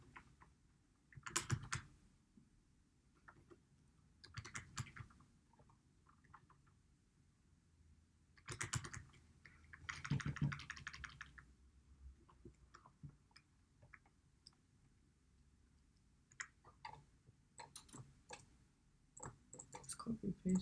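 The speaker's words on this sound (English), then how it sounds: "let's just type in a dummy email like." Quiet computer keyboard typing comes in separate clustered bursts of clicks with pauses between them, close and alone in a quiet room, as a dummy email address is entered.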